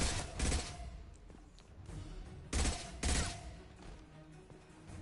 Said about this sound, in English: I definitely was shooting through the barrier